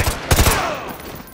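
Gunfire in Modern Warfare 2 Remastered as a sniper shot is taken at a target's leg, with a loud, close burst of several rapid booming reports followed by a trailing rumble and ringing decay.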